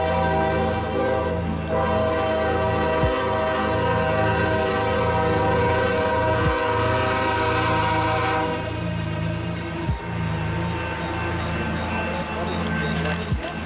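Train rolls past nearby with a long, loud horn blast sustained for most of the stretch, wheels thumping at intervals underneath, during an outdoor ghost walk in Old Town Spring.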